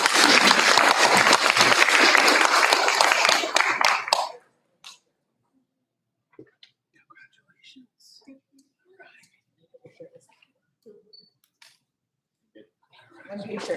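Audience applause at a school board meeting, full clapping for about four seconds before stopping sharply, followed by near silence with faint scattered rustles and murmurs.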